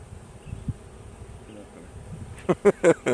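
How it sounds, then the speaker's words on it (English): A low, continuous buzz of many agitated bees close by around an open hive during an inspection, with faint rustling and a few louder bursts near the end. "You can see there's a lot more bees in the air in this hive."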